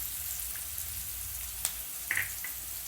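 Cauliflower Manchurian sautés in a pan with soy, chilli and tomato sauces and pepper, making a soft, steady sizzle with a few faint clicks and spatters; no one speaks.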